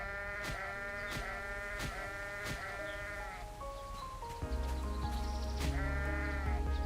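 Sheep in a video game bleating repeatedly, with drawn-out wavering cries in quick succession, close and clear, over a steady background tone with no talk.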